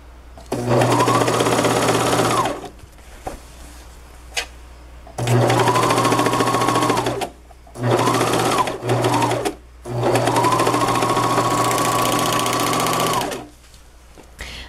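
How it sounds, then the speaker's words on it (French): A sewing machine stitches hoodie sleeves in four loud bursts of steady whirring, separated by short pauses and a few small clicks, close and with no voices. "Puis, je viens coudre mes manches comme ça, ici,"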